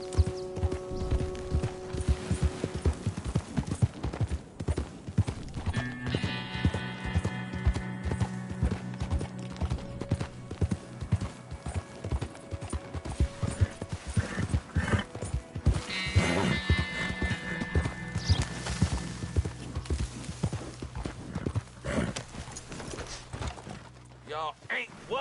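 In Red Dead Redemption 2, a horse's hooves clop in a steady rapid gallop, fairly close, under game music and occasional character voices.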